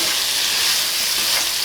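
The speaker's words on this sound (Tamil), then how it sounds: "சேர்த்துட்டு அகைன் வந்து நல்லா மிக்ஸ் பண்ணிக்கலாம்." Mutton fry with lemon juice sizzling loudly in a pan as it is stirred, a close, continuous crackling hiss with no voices.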